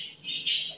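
Caged lovebirds squawk in shrill, high-pitched bursts, one short call followed by a louder, sustained squawk, close and with no talk.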